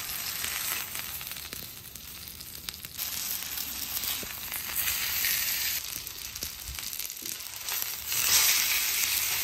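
A tomahawk steak sears on a hot griddle after a Weber kettle reverse sear, giving a loud, constant hissing sizzle with occasional scraping and clinking as the meat is flipped back and forth.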